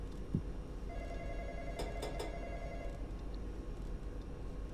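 A telephone rings in the Oakridge Nuclear Power Station video game, giving a few quick, faint trilling bursts over a constant low background rumble, with no talking.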